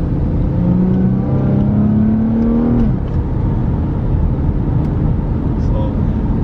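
A widebody Nissan 370Z with the HR engine accelerating hard, a rising engine note climbing in pitch then levelling into a steady drone, heard from inside the car with a voice talking over it.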